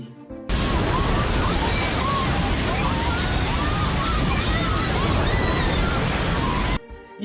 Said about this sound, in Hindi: देखिए कैसे अचानक आया पानी और मलबा अपने रास्ते में आने वाले हर चीज को तबाह करता चला गया